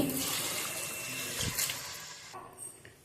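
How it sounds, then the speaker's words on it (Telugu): Water is poured from a glass into rice for an egg biryani, a quiet splashing trickle with a brief louder gush midway before it tapers off. "దీంతో అయితే 3 గ్లాసెస్ అయితే వాటర్ వేసుకుంటాను"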